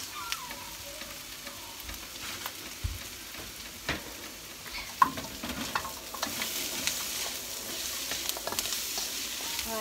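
Corn meatballs frying in oil in a pan produce a soft, steady crackling sizzle with a few scattered pops and light stirring scrapes, fairly quiet throughout.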